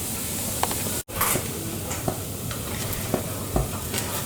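Corn paratha frying in ghee on a griddle, a constant close sizzle with scattered crackles and a brief dropout mid-clip, no talking over it.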